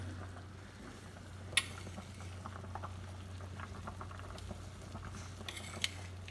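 A pot of chicken and dumplings bubbles on the stove in a soft, continuous simmer, with gentle popping and a couple of sharper clinks over a low steady hum.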